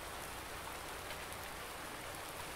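Rain in the video game Farming Simulator 19, a dense, even hiss of falling rain that holds steady and close throughout, with no talk.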